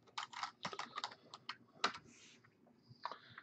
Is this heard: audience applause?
no